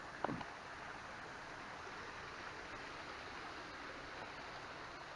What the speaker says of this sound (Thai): ให้ดูโอ้น้ำตกจำลองด้วย